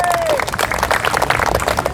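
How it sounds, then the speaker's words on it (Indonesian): A church congregation cheers and applauds, a dense and loud wash of clapping and voices that carries on steadily without a break. "Berikan sorak-sorai buat Tuhan."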